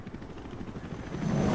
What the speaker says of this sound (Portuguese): Vamos lá, helicóptero.